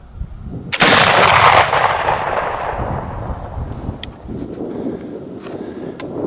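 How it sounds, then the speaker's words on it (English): A single loud flintlock muzzleloader shot at a deer during a Pennsylvania deer drive cracks close by and rolls off in a long, fading boom across open ground, followed by quiet outdoor ambience. "That was a good shot."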